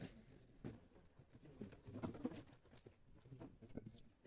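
Pigeons in a loft with nesting compartments coo softly and close by, with light pattering and shuffling movements throughout.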